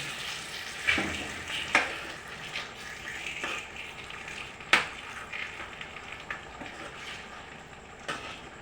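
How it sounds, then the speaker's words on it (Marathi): A whole red chili tempering poured into boiling dal, giving a steady hissing sizzle with a few sharp spits and crackles, close and unaccompanied by speech. "त्यात आपण हे केलेली फोडणी मिरचीची अख्ख्या मिरचीची टाकली"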